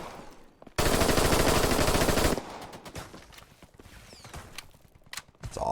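Automatic gunfire in the game Operation: Harsh Doorstop, a loud sustained burst of rapid shots lasting about a second and a half, then scattered quieter clicks and shuffling movement.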